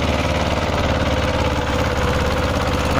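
A Mahindra 255 tractor engine idles loud and close, a steady chugging diesel rumble with a regular knocking pulse throughout, no voices.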